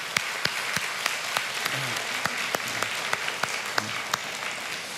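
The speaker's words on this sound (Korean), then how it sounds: "우리 하나님께 감사와 찬송과 영광의 박수를 우리 함께 같이 올려드립시다" A church congregation claps together in a strong, regular rhythm, sharp distinct claps in near unison with faint voices underneath.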